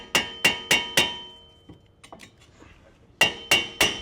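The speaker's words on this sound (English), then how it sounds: "Grab a sledgehammer and just tap around this so you can free up the rotor." A sledgehammer taps around a stuck front brake rotor on an Infiniti G35/G37: four sharp, ringing metallic strikes in steady rhythm, a pause with faint clinks, then three more strikes.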